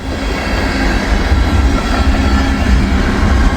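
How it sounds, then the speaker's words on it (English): A shiny locomotive and its train roll past in a snowy setting, a loud, steady rumble of wheels and rail noise filling the whole stretch without letup. "Shiny locomotive there."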